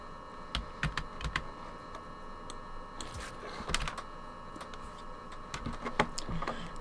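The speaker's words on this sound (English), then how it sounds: "Because I've got such a big keyboard," Keys clatter on a big computer keyboard, with irregular bursts of clicks and taps over a steady background hum, moderately close and a little quiet.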